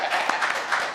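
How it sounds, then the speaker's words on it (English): An audience claps for a voice acting performance during a live panel talk, a dense wash of many hands close by with a few sharper slaps popping through. "We can clap it up for that."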